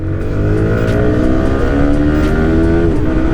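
A Yamaha R15M sport motorcycle accelerating hard along a straight road, its engine revving loudly with rising pitch and steady rushing wind noise, close and continuous with no talk.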